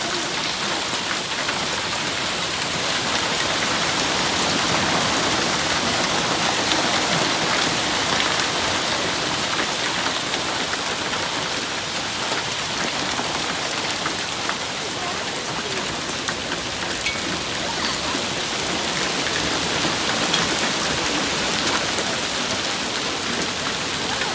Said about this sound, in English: we had the most ridiculous hailstorm that I have ever seen in my entire life